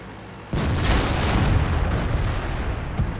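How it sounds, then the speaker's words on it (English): A KV-1 tank's main gun fires in World of Tanks, a sudden loud close boom that cuts in after a quiet half second and rolls out into a long, rumbling decay with a few smaller thuds near the end. "And my my KV-1 behind me just shot me."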